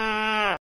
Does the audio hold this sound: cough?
no